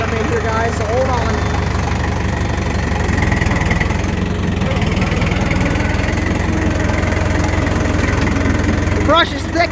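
A tractor reversing out of a hole through thick brush runs its engine with a steady, knocking chug throughout. The engine sound is close and continuous, with someone talking over it.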